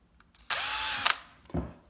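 A small 1 mm drill bit bores briefly into uPVC window beading on a Deceuninck tilt-and-turn window, giving a single short, high power-drill whine of about half a second, followed by a soft knock.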